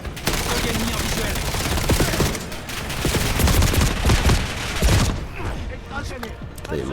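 Dense automatic gunfire and explosive bursts in the Black Ops 7 video game, loud and continuous for several seconds, with rapid overlapping shots and heavy booms, thinning slightly near the end.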